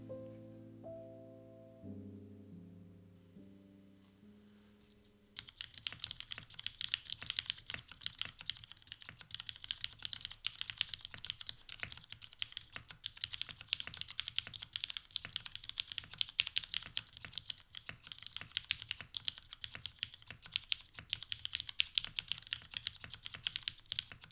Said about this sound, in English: The lack of flex cuts and the smaller case positively impacted the sound of this board.